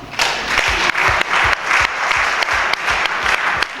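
Crowd applause at a trade union confederation council meeting in Benin as reports and a budget are approved by acclamation, loud dense clapping with a steady rhythmic beat of repeated thumps throughout.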